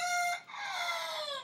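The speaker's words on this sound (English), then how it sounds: "there's the rooster" A rooster in Ubud, central Bali, lets out a single drawn-out crow, moderately near and clear, with no talk over it.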